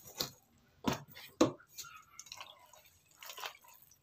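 Himbabao vegetable being washed in water, a few close, quiet splashes and drips in short irregular bursts separated by near silence.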